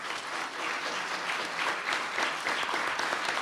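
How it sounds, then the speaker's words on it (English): A seated audience claps steadily and densely for a few seconds, a full, even wash of hands at an indoor assembly, with no voices over it. "Now, I think you applauded to tell me enough is enough"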